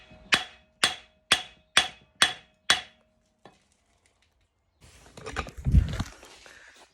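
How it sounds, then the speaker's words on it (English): A hammer strikes six times in a steady rhythm against a stuck part on a racing mower build, each blow sharp and close, followed by one faint tap and then a burst of rustling handling noise. "Try and loosen it up with this hammer."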